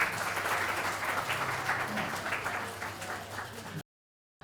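An open mic Hindi poetry audience claps for the next poet, dense steady applause at moderate distance that cuts off abruptly near the end.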